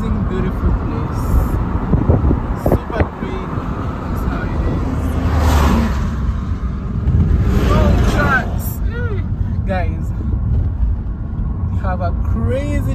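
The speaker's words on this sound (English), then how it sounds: "Crazy traffic congestion here" Heavy road traffic congestion in Nairobi, Kenya rumbles steadily with engine noise and passing vehicles heard from inside or beside the road, a constant low roar under people talking, with occasional horns or brief chirps.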